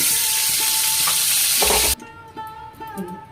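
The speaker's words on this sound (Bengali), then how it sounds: "এবার গ্যাসের মধ্যে দেখো কালো জিরে ফোড়ন দিলাম তেজপাতা দিলাম" Nigella seeds and a bay leaf dropped into fresh hot oil on a gas stove sizzle loudly and steadily, then the frying abruptly cuts to a much quieter background.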